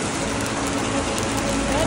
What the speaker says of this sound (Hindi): बारिश तेज हो गई है